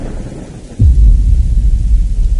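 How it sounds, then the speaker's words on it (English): Thunder in the horror video game Slender: The Mansion, a loud low rumbling crash that breaks in suddenly and rolls on steadily over a rain-like hiss, with no voices. "That thunder is horrible."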